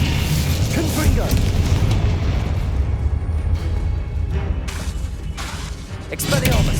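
Confringo spell blasts in Hogwarts Legacy, booming spell explosions layered with other spell effects in a dense, continuous clash that rumbles loudly, with a brief lull before a final burst.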